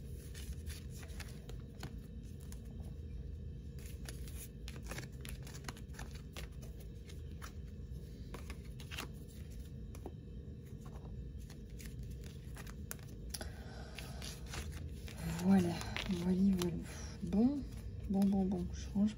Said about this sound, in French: bon, je range mes cartes.